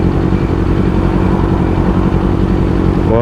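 A motorcycle engine runs steadily in city traffic among taxis, a loud, close and continuous rumble with a constant throb, heard alone without talk.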